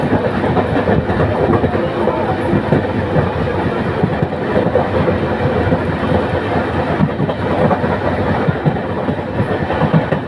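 Banalata Express on the Dhaka to Rajshahi run rolls at speed across the Jamuna rail bridge, Bangladesh's largest railway bridge, with a loud, continuous rumble and rapid clickety-clack of wheels throughout.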